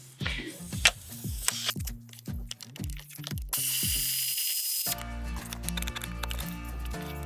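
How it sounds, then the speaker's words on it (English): Pneumatic air wrench spinning out 14mm rear seat bolts on a Toyota Highlander, several short ratcheting bursts in quick succession followed by a longer continuous whir, close and fairly loud with no talking. "We're gonna be using an air wrench today, which is super helpful, but you don't necessarily need one."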